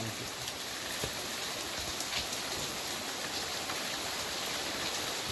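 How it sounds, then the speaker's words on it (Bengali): Heavy rain falls steadily during a thunderstorm, a dense, even hiss of drops on surfaces close by with occasional faint individual taps, continuous throughout with no talking. "এই বৃষ্টি দেখতে ভালো লাগে"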